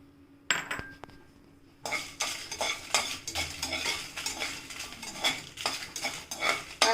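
Dried chilies are stirred into a spice mix with asafoetida in a dry pan with no oil, making repeated close scraping and clinking strokes from a metal spoon over a faint crackle.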